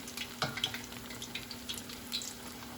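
Hot water cornbread frying in a pan, with a soft, steady sizzle and faint crackles and pops throughout at low volume, no talking.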